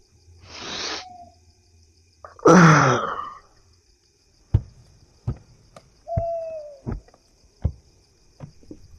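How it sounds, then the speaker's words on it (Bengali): An owl hoots several times in a still night forest, with a few sharp clicks and knocks in between. "গোটা জঙ্গল থেকে খালি ঝিঁঝি আর তার সঙ্গ দিয়ে পেঁচা ডেকে চলেছে।"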